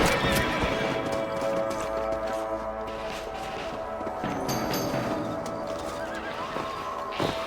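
Horses whinny and neigh over steady clip-clopping hooves in the video game Red Dead Redemption, with a continuous musical backdrop throughout.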